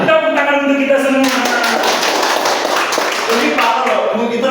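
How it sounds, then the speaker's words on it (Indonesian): Clapping from a seated audience at a teacher training session on growth mindset, a short burst of close, loud applause running through the middle with voices speaking before and after it. "Tepuk tangan untuk kita semua."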